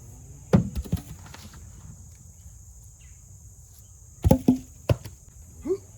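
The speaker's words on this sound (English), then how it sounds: "I've just been using this wood axe" A wood axe splits wood outdoors in a few sharp, separate strikes: two near the start and a quick cluster later, with long gaps between them and crickets and insects chirping steadily in the background.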